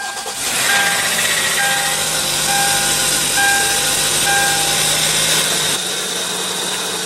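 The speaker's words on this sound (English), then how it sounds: "Just put your foot on the brake, hit the button to start." A 2015 Hyundai Tucson's 2.4-litre four-cylinder engine fires up by push button, the starter whirring briefly before the motor settles into a steady, moderately loud idle hum with no talking.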